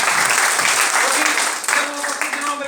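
Loud applause from a seminar audience fills the space, dense and sustained, with a voice talking over it toward the end.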